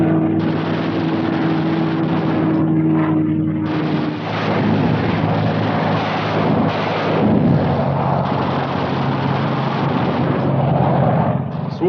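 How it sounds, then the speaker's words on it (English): WWII fighter planes skimming along at maximum speed on low-level strafing runs, a loud continuous roar of aero engines with a steady low drone that swells and churns throughout. "Skimming along at maximum speed, the fighters pair off and go to work cutting vital Jap lifelines"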